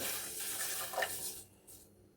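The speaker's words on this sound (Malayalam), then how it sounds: "ഒരു ഗ്ലാസ് വെള്ളം കൂടി ഒഴിച്ച് കൊടുക്കുകയാണ്." A glass of water is poured into a pot for making Irani tea, a brief soft splash and trickle up close that fades away within a couple of seconds.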